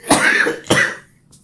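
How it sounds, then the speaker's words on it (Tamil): Two harsh, close coughs from one person in quick succession, loud and clear, followed by near silence. "இன்னும் இந்த இருமல் போய் தொலை எனக்கு"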